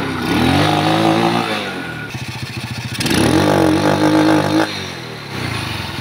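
A motorcycle engine that fails to start properly and sputters when revved: it sputters through a starter crank, catches, and revs up loudly, then drops back to a rough idle; close and prominent.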